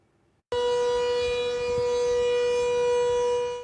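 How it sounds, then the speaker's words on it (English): A loud wailing evacuation siren at the Blue Lagoon Resort in Iceland during a volcanic eruption, starting abruptly after a brief quiet moment and holding one steady, sustained tone until the end. "Sirens blared at Iceland's world-famous Blue Lagoon Resort on Saturday night"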